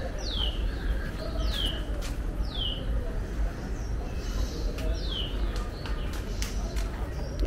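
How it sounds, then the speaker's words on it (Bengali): Birds in a leafy hotel garden in Goa repeat sharp, descending whistled chirps every second or so, set against a low outdoor rumble. "পাখির ডাক শোনা যাচ্ছে।"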